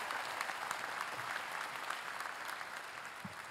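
Steady, dense applause from a large audience fills a college commencement hall for graduating students, continuous and even throughout.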